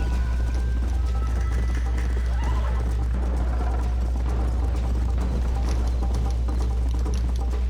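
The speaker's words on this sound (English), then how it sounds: "This is one intense horse ride." Hoofbeats of a horse galloping hard in Red Dead Redemption, a steady rapid clip-clop under a dense game soundscape with an occasional whinny.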